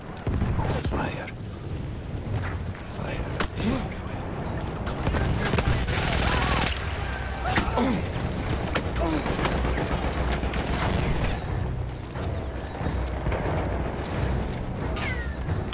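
Dense gunfire from the First World War shooter Battlefield 1: rapid machine-gun bursts, scattered rifle shots and booming blasts, loud and continuous throughout.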